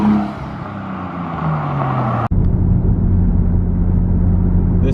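A 1990 Nissan Skyline GTS-T R32 with an aftermarket exhaust and intake drives along, its engine a steady close rumble with a brief drop in revs at a gear change, no talk.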